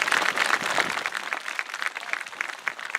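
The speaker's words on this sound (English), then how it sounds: "How about a round of applause for our Sons of the American Revolution Color Guard?" An audience applauds the Sons of the American Revolution Color Guard at an outdoor ceremony, a dense, steady clapping from a crowd that holds for the full stretch before starting to thin.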